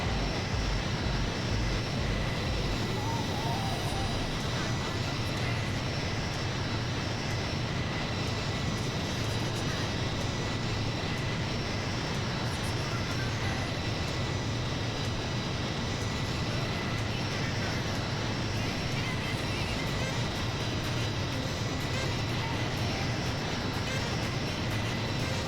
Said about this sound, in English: I just like flying the C-17 and showing it off